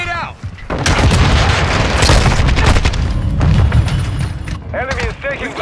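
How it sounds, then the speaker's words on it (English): In Call of Duty, a grenade blast and sustained loud gunfire fill most of the moment, dense and close, with soldiers shouting at the start and end. "Grenade out!"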